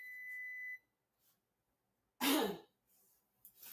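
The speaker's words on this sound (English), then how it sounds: "Those seasonings got me coughing" A single harsh cough or throat-clear, set off by cooking seasonings, bursts out after a short beep and a stretch of quiet, followed by a few faint breaths.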